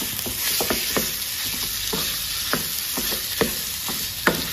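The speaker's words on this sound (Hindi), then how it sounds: "अब हम इसकी भुनाई करेंगे।" Raw banana stir-fried in a pan, a steady sizzle with repeated scraping and stirring clatters from a spoon against the pan, close and continuous, with no talking.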